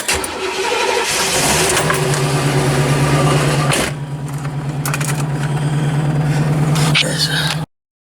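A 1985 Corvette with a worn transmission turns over and runs, a loud close engine drone with a steady low whine, then a change in tone partway through before it cuts off abruptly. A voice speaks briefly over it.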